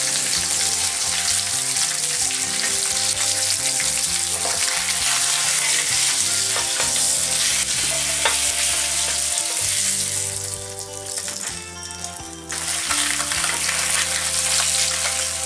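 Marinated salmon sizzles on a grill pan with a steady, dense crackle that runs the whole time, and background music plays underneath.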